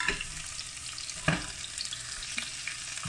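Onion and tomato are stirred as they fry in a pot for pork-rib sinigang, producing a close, steady sizzle punctuated by a couple of distinct spoon scrapes.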